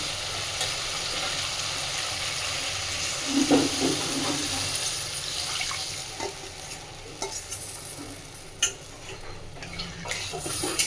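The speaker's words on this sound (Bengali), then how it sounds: "এবার আমি দিয়ে দিচ্ছি পরিমাণ মতন জল" Loud sizzling and bubbling as water hits fried potatoes and masala in a hot pan for a lentil dish, a steady hiss with brief stirring clatters partway through.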